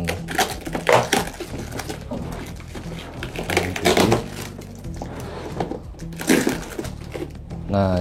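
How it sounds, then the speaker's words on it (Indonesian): Packing tape is pulled and pressed onto a beginner hydroponics kit, giving several loud, sharp tearing bursts between quieter rustling and handling noises, close by. "Ini di lakban."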